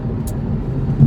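Road traffic rumbles by at a steady low drone, a passing car swelling louder toward the end, with no talking over it.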